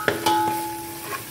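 Ingredients for Guntur-style mutton yakhni biryani fry in a pan with a soft sizzle. A spoon scrapes and clinks against the pan a few times in brief strokes.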